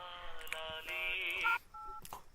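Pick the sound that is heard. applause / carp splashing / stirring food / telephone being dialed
telephone being dialed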